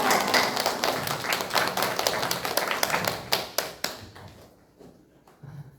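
A church congregation at a worship service breaks into a burst of clapping and applause that thins into a few scattered claps before fading out.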